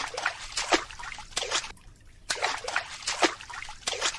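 Water trickles and splashes in quick irregular bursts with a brief lull midway, a close, fairly loud liquid dribbling and sloshing with no speech.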